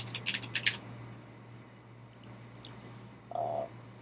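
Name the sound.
computer mouse clicks in software interface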